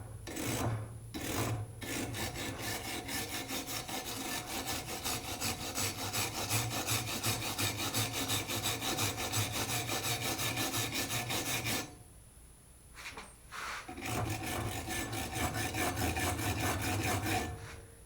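A hand wire brush scrubs rust off a vintage tractor wrench in fast, continuous back-and-forth rasping strokes, loud and close, broken by a couple of short pauses before the scrubbing picks up again.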